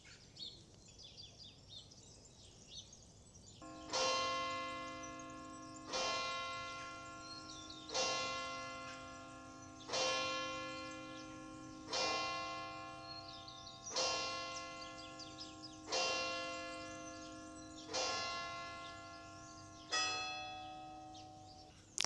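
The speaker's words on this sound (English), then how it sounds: "And there we heard the sound of the bells." Church bells in a medieval village in Umbria, Italy, ring out in a slow, even sequence of about nine resonant strikes, each decaying before the next, with faint birdsong before they start.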